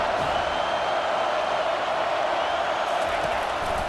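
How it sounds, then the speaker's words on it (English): Steady roar of a football stadium crowd at an NC State vs Florida State game, backing the defense near the goal line, a dense continuous wash of cheering with no single voices standing out. "The crowd getting behind this defense as they try to get a stop in the red zone"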